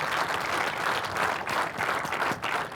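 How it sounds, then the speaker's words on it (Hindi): An audience gives warm applause to honoured sportspeople at a public event: continuous, moderately loud clapping from a sizeable crowd, swelling slightly in a few pulses without any talk. "जोरदार तालियां"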